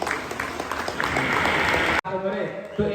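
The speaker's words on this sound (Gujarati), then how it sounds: "આખી જોરદાર તાળીઓથી વધાવી" Audience clapping at a Koli community student award ceremony in Diu, a dense sustained round of applause for about two seconds that cuts off abruptly, followed by a voice speaking over a hall.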